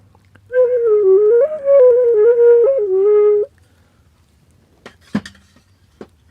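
A traditional flute designed like a shakuhachi plays a short, clear melodic phrase of sustained, breathy tones for about three seconds, followed by quiet with a few soft knocks.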